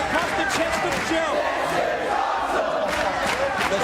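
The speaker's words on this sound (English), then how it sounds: "Listen to the crowd." A wrestling arena crowd roars continuously during a three-way X-Division title match, a dense, loud wall of cheering and chanting voices that holds steady throughout.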